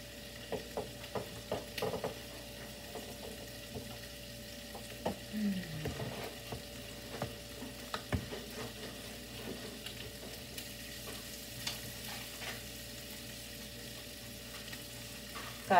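Garlic frying in a pan, a steady low sizzle with scattered pops and crackles and occasional scrapes and taps of stirring, moderately quiet and close, with no talk.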